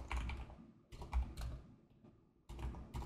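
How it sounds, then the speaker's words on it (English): Close computer keyboard typing in quick bursts of clacking keystrokes, separated by short pauses, with no talking. "I'm gonna just bring my keyboard in front of me. We're gonna be typing a lot today."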